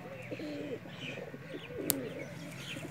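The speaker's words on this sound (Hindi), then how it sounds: "मेरा भी बहुत फेवरेट कबूतर है ये" A Rampuri flying pigeon coos in repeated soft, throaty phrases at close range, with faint chirps and a brief sharp click in the background.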